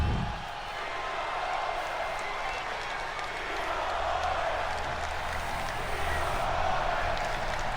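A video game arena crowd in WWE 2K25 keeps up a continuous roar of cheering and applause during a wrestling match, a dense, even wash of noise from start to finish.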